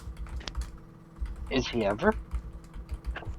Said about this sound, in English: Oh, I hear typing in the background.